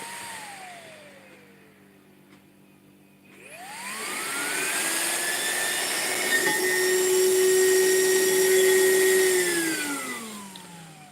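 Small car cooling fans running on 6.5 volts spin up from near silence to a loud, steady high-pitched whine with a strong whooshing hiss, hold at speed, then the pitch begins to fall at the end.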